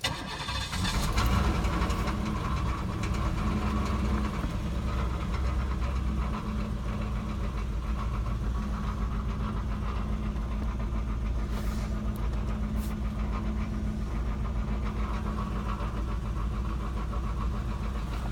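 A 1991 Cadillac Eldorado engine cranks and catches, then idles steadily with a rough, slightly knocking rumble for a long stretch, close and continuous.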